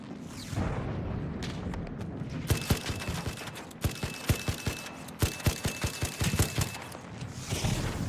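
Gunfire in ARC Raiders, a run of sharp repeated shots in irregular bursts over a steady game background, moderately loud and close.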